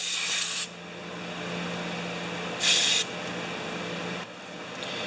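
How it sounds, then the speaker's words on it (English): Parts of a Poulan leaf blower are rinsed with spray: two short, loud hissing bursts close by, a softer hiss between them and a faint third burst near the end, with a quiet workshop background. "We'll just rinse this off without taking anything apart."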